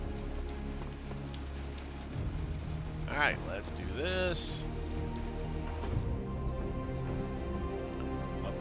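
Rain falling in the video game Midnight Suns, a steady soft patter of drops on surfaces that continues beneath a voice speaking briefly in the middle.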